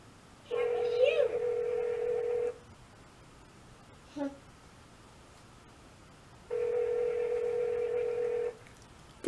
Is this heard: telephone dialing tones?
yes